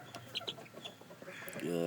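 Chickens and newly hatched chicks cluck and chirp in short bursts close by, ending with a louder drawn-out call.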